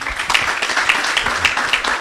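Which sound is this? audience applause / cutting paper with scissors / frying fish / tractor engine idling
audience applause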